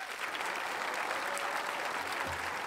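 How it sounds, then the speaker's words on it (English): An audience at an evening author reading applauds, a dense, even wash of clapping that holds steady throughout. "Please give them a round of applause."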